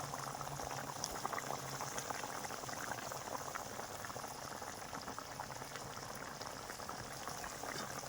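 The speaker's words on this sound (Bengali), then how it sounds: "আমার তরকারিটা ফুটছে" Paneer curry bubbling in a pot on the stove, a steady dense hiss of boiling and popping bubbles, even and continuous, close but fairly soft.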